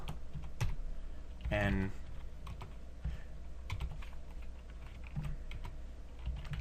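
Rapid keyboard typing on a computer keyboard while writing Eclipse code, with clustered key clicks scattered through the clip and a short burst of speech near the start.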